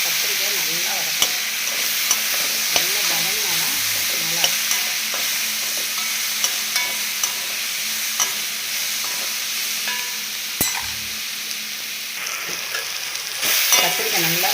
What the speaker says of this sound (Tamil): கத்திரிக்காய் நல்லா வதக்கிட்டு மாங்காய் பீஸு ஒரு 4 போடுறோம்.